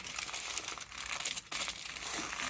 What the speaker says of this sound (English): And I'm just going to kind of fold over the aluminum here